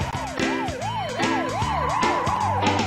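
A wailing emergency siren from a cartoon ambulance sweeps up and down in a fast, repeating cycle, loud and close, over a low rumble.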